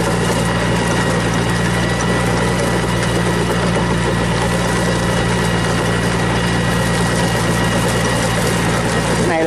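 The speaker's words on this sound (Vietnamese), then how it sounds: "Cái này là con máy cày Văn Ma" A Văn Ma 514 tractor engine runs steadily nearby, a loud, continuous diesel chug with strong low rumble and constant vibration, no break in the sound.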